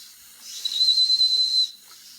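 A 74-year-old miniature steam engine gives a single thin, high whistling hiss of steam lasting about a second, faint and alone.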